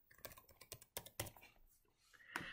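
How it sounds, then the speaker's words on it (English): Quiet, close typing on a computer keyboard while entering a policy into a home inspection form, a quick irregular series of soft key clicks with short pauses. "I'll type in a policy."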